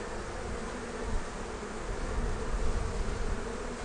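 A dense swarm of killer bees buzzing close by, a continuous loud droning hum that swells slightly and never lets up.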